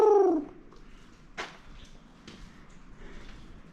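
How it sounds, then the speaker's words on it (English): A pigeon gives one short, echoing coo inside an abandoned Pennsylvania Turnpike tunnel, followed by hollow quiet with faint scattered knocks. "Oh, there's a pigeon up there."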